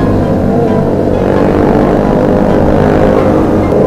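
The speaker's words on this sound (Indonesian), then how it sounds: "4 silinder, men. 250cc. Ini nih suaranya." A four-cylinder 250cc motorcycle fitted with a Leo Vince exhaust gives a loud, dense, steady engine roar that sounds near and continuous. No speech is heard over it.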